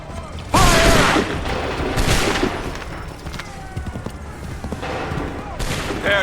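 Musket volleys in Assassin's Creed 3, with several loud massed bursts of firing spaced a few seconds apart, each followed by a rumbling tail, amid battlefield noise and shouted commands.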